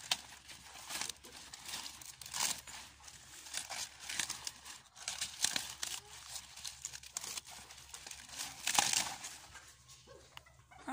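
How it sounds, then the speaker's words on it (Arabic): Leaves are torn by hand from a plant on a chicken farm in Iraq, making repeated close crinkling and ripping sounds in uneven bursts. "راح اخذ الاوراق اللي حوله يعني هيج."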